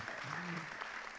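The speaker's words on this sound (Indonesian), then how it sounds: "Tepuk tangan." Faint, distant applause rises at an Indonesian film event, a soft clapping texture sitting under a brief spoken voice.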